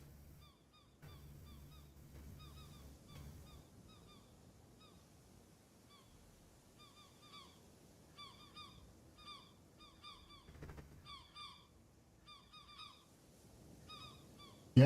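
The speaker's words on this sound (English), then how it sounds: "There's more seagulls." Seagulls in the sailing game Escape The Pacific give repeated short, bright calls in bursts over a steady low ambient bed, with a pause near the middle before the calling resumes.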